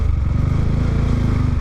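A motorcycle riding through traffic, its engine a close, loud, steady pulsing putter with rapid even firing throughout, no voices over it.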